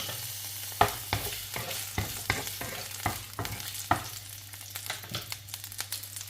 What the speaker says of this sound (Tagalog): Ayan, mainit na yung ating mantika. Ihulog na natin tong ating bawang.